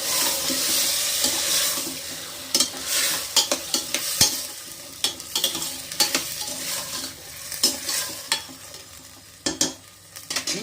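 Fresh green field beans with tomato are stir-fried in a pan, giving a continuous sizzle broken by repeated scraping stirs and clanks, close and loud with no talking.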